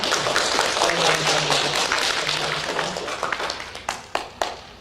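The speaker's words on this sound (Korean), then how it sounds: "그 사랑의 하나님 우리 영광에 또 감사의 박수를 올려드릴까요?" A church congregation claps in thanks during a worship service, a dense wash of applause thinning into a few scattered, separate claps at the end, with a voice briefly audible beneath.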